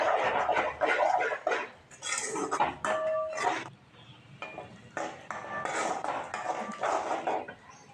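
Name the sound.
stirring goat blood fry in a pan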